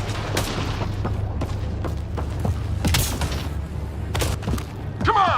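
Firefight gunfire from the sci-fi shooter game Mass Effect: Andromeda: scattered sharp shots and dull booms crack over a steady low rumble, with a few closer bursts near the end.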